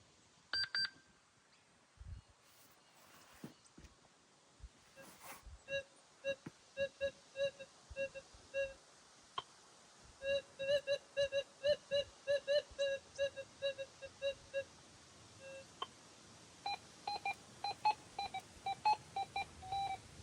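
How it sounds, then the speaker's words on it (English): A metal detector on a gold setting sweeping hard-packed rock crevices on a goldfield hillside, sounding short repeated electronic beeps in irregular bursts, faint to moderate over quiet outdoor background with occasional knocks. "So I thought I might give the detector a go."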